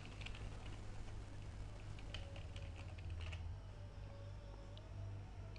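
Keystrokes on a computer keyboard while entering a server address, username and password into an FTP client, a quiet irregular run of light clicks over a steady low hum.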